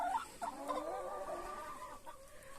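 A young rooster sired by a purebred Brahma-type father clucks in a short series of close, throaty calls, steady and unaccompanied by talk.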